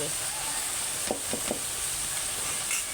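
Potato, eggplant and onion fry with chapa lote greens in a pan, giving a constant hiss of sizzling oil with a quick run of stirring clicks in the middle.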